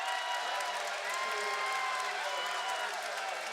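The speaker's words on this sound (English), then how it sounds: "Fans are applauding for that call." Basketball crowd in a gym at a high school state quarterfinal, applauding after a foul is called on a shot, a steady wash of distant clapping and crowd murmur sustained throughout, with a buzzer-like tone in the background.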